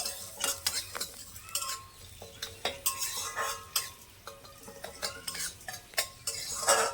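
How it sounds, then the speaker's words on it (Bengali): Chopped green chilies and curry leaves frying briefly in a pan, with a soft sizzle under repeated sharp clicks and scrapes of a spoon stirring against the metal, close by and without talk. "আবার সব কিছু ভালো করে একটু ভেজে নেবো একদম কয়েক সেকেন্ডের জন্য ভাজলে কিন্তু হয়ে যাবে"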